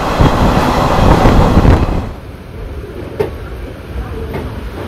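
A crowded Lalgola–Sealdah local train runs past Palta station, loud rumbling and rattling of wheels that drops to a quieter hum halfway through, with a sharp clack and faint squeal afterward.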